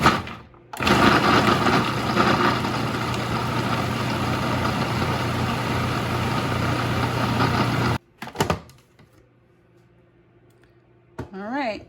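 A food processor chops basil, garlic and oil for pesto, a loud steady whirring motor drone running for about seven seconds, then cutting off abruptly, followed by faint clatter and a brief rising whine.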